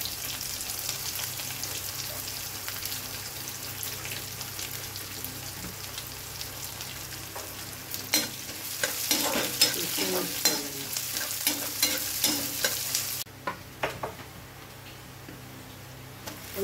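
Onion frying with cumin in a pan for an aloo gobi sabzi, a steady mid-level sizzle that grows busier with stirring and scraping before dropping to a quieter hiss near the end.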